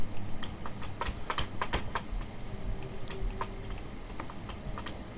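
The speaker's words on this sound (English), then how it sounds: "This keyboard is not letting me type." Rapid tapping on a computer keyboard, irregular clusters of light clicks over a steady low room hum, close and fairly quiet.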